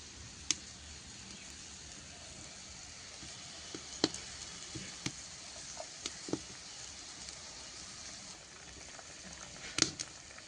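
Fish curry with okra and potato simmers in a pot with a faint, steady bubbling patter. Scattered soft pops and ticks rise above it, and the sound stays quiet and close throughout.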